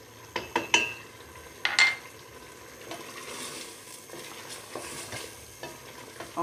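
Mutton korma pieces sautéing in a pressure cooker with yogurt, garlic and turmeric, a soft steady sizzle broken by several sharp scraping stirs of a utensil against the pot, close by with no talk.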